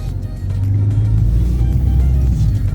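A car accelerates through Istanbul traffic with a steady, loud low engine rumble that builds and holds for a few seconds, with no talking over it.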